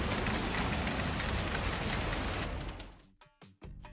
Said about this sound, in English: It just started raining as soon as I got off the bus.